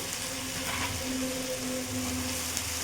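Spices with salt, turmeric and Kashmiri chilli powder frying in oil over a medium gas flame for lyatha fish curry, a steady close sizzle with faint stirring scrapes and no talking.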